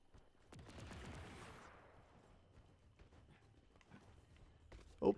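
Gunfire in a Marvel's Avengers game set in Wakanda: a loud burst of rapid shots rings out early and decays, followed by scattered faint pops and a sharp crack at the end, with no talking.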